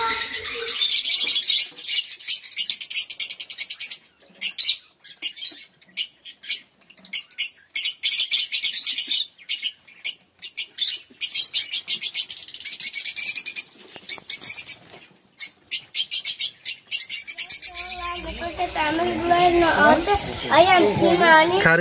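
Many birds chirp, tweet and squawk inside a house holding a bird collection, with wings flapping now and then; the calls come in dense bursts with short gaps, and a person speaks over them near the end.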